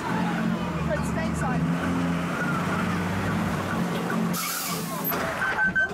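Safari expedition ride vehicle at Chessington driving along, a steady low motor drone and rumble running throughout with a brief hissing burst near the end; a recorded voice talks over it.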